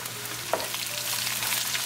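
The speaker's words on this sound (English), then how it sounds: "Cooking our onion with the ginger garlic for 4 minutes" Onion frying in a pan with ginger and garlic, a steady sizzle running throughout with one soft stir or scrape near the start, close and moderately loud.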